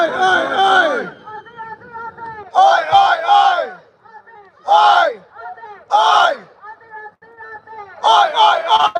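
A large rally crowd at the March for Australia chants in loud, rhythmic bursts of many voices, with short gaps of shouting and chatter between them.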